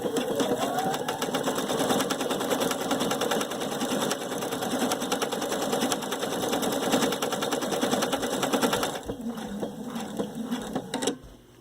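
A Viking Sapphire 930 sewing machine stitching tapering stitches, a fast, steady mechanical whir of rapid needle strokes that runs close and continuous before stopping near the end.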